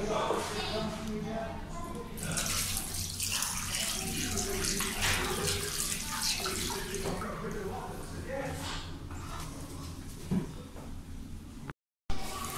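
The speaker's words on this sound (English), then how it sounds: "Swimming pool." Water splashing continuously at an indoor swimming pool, a dense rushing wash with scattered drips and echoes, a voice talking briefly over it, then a short silent gap near the end.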